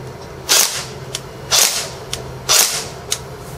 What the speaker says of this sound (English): now if I pull this trigger, it should only fire once